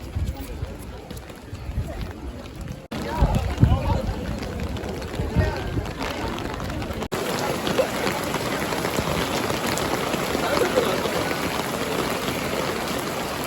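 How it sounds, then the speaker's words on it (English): Heavy rain pours down in Paris, a steady loud hiss of drops on pavement and surfaces that grows denser over time, with people talking faintly underneath. "And it started raining really hard."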